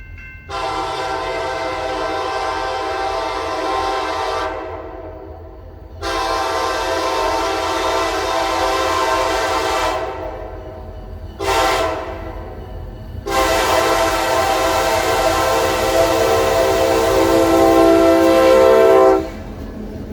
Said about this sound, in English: My first catch of CPKC LL-71 would be in Wortham, Mississippi. The train would be led by KCS 6092